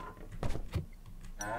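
A cartoonish cow lets out a short moo in the video game Suicide Guy, a brief lowing call mixed with game effects and ambient sound.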